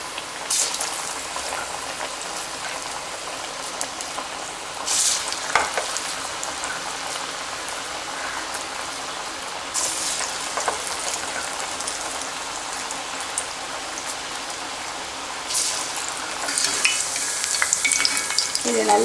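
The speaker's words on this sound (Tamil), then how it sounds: "இன்றைக்கி வந்து நான் ஆயிலில் தான் அதை பொரித்து எடுக்க போகிறேன்" Vada deep-frying in hot oil gives a steady, dense sizzle and crackle for the whole stretch, with a few sharper bursts of spattering along the way and no voices.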